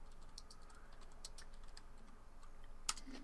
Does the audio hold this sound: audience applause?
no